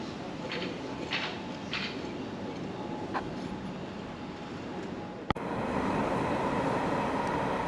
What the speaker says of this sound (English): There are the trains which are heading towards Epping.